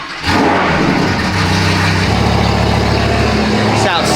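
A Lamborghini sits warming up, its engine holding a loud, steady, throaty idle close by for several seconds with a slight rise and fall. A voice can be heard underneath.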